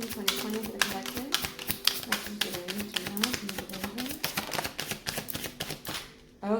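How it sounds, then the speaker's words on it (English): Tarot cards being shuffled by hand, giving a rapid run of crisp, close taps and riffles that ends abruptly. "Okay, that was the last shuffle."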